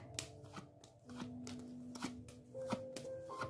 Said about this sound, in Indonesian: Oke, saya akan ambil beberapa kartu ya.